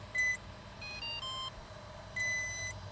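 A heavy-lift drone running a Pixhawk 2.1 Cube gives short electronic beeps in a few separate tone bursts before its hardware safety switch is pressed, close and clear over a quiet background hum.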